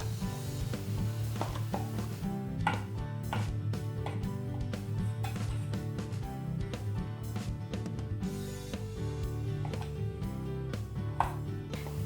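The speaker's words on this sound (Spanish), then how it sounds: "Lo vamos a trocear." Knife chopping tempeh on a cutting board, a series of close, sharp rhythmic knocks repeating steadily throughout, with no voices.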